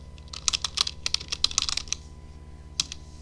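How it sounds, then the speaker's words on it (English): Rapid typing of code on a computer keyboard, close and clear, in a quick burst of clicky keystrokes followed by a pause and a final single keypress. "we're going to type interaction"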